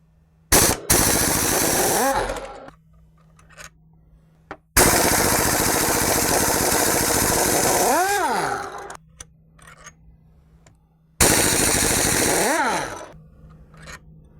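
A power impact tool removes the drive shaft isolator bolts through the rubber isolator at the differential on a 2016-2017 Chevrolet Camaro LT, three loud bursts of rattling hammering that wind down in pitch, separated by quiet gaps.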